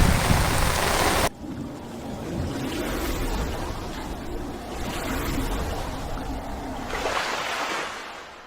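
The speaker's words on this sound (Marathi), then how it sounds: "पाऊस बघा किती आलाय" Heavy monsoon rain with wind pours down outdoors, a dense continuous hiss that swells and eases, with a louder burst at the very start.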